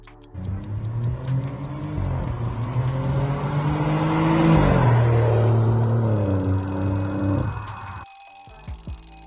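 A BMW 320i engine revving, a close, loud rising and falling engine tone that builds to a peak before cutting off abruptly, accompanied by a steady ticking sound.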